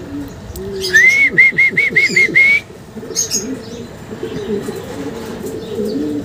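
Racing pigeons arriving at a loft after a 70 km race from San Rafael, Bulacan to Talavera, Nueva Ecija, with a rapid series of close chirps followed by softer cooing and bird calls, no voices.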